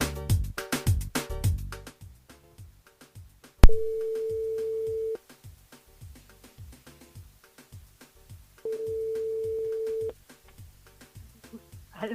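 A phone line on a radio station switchboard plays while a listener in Saint-Pierre is called back, two long steady tones separated by short clicks and blips, with a burst of music at the start.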